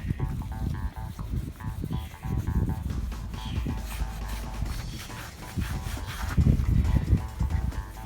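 A car wheel is polished by hand with a cloth, giving repeated rubbing and wiping strokes in an uneven rhythm, close and moderately loud, with no talk.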